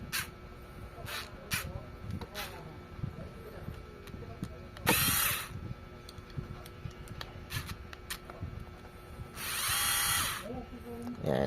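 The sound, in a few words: power tool running on a bike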